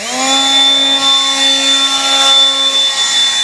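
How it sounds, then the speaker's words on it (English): A Worx cordless battery leaf blower runs steadily with a loud, close, even whine and whooshing airflow, holding constant throughout. "let's see how the actual blower works"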